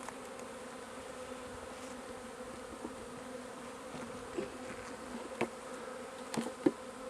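A large swarm of honey bees hums steadily throughout while being collected into a hive, a dense continuous buzz with occasional louder individual bees passing close by.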